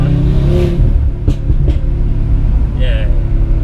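Audi RS3 with a Scorpion full exhaust system accelerating, a steady loud engine drone heard from inside the car with the windows down, with people talking over it.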